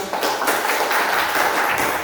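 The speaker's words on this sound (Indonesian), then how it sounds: "tepuk tangan buat bisa jawab juga dong" A classroom of students claps for a classmate who answered a question, a dense, steady patter of many hands at close range running throughout, with no break and no clear talk over it.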